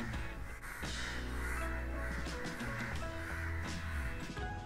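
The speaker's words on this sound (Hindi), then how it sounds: "यहाँ आज एक साथ इतने सारे कौवे, मैं बहुत देर से देख रही हूँ। ये लोग यहाँ पे कब से चिल्लाए जा रहे हैं।" Many crows caw together outdoors in a dense, overlapping, continuous chorus of harsh calls, some near and some farther off, fairly faint overall.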